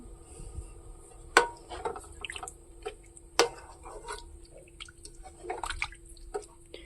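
Thick chicken curry gravy bubbles and pops in a pot, soft irregular plops and sharp bursts close up over a quiet simmering background.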